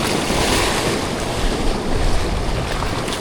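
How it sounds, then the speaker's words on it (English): Rough ocean surf on a rising tide roars steadily and loudly at a shallow shoreline while fishing, with crashing waves and gusting wind buffeting the microphone throughout. "Tide rising, the water getting more rough."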